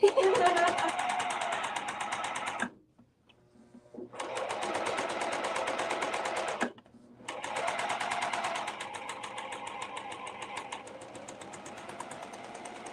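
A serger sewing machine stitches in rapid, even bursts, running for a few seconds, stopping briefly, then starting again close up, with no voices over it.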